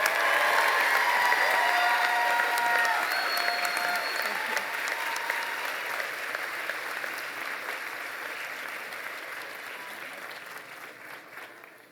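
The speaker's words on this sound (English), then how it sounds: "another round of applause for Sylvia Mendez" An audience at a commencement ceremony claps in sustained, loud applause that slowly fades over several seconds, with a faint murmur of the crowd underneath.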